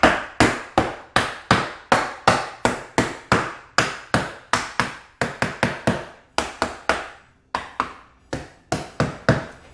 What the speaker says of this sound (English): you may need to take a little hammer or something just to get it kind of beat in place